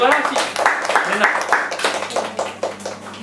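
A class of children applauding at the close of a four-month early-morning course, a brief round of clapping mixed with a speaking voice.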